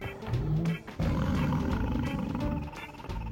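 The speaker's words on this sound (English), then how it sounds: "It has a roar attack that doesn't really sound much like a roar" A lion's roar attack in a video game plays as a close growling roar with a short break near the start, then a sustained rumbling stretch, alone without talk.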